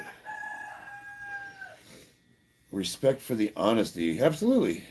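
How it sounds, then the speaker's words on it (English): A rooster crows at a distance in a gym during a strength workout, giving one long drawn-out call over quiet background, then people speak after a short pause. "Do I hear a rooster crowing?"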